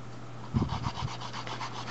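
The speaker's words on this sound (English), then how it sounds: "I'm going to take my 120 grit file and I'm going to start to file it, starting with the sidewalls." A 120-grit file rasps across a gel nail on a natural nail, working the sidewalls in a few short, gentle strokes close by, with steady background hum and no talking.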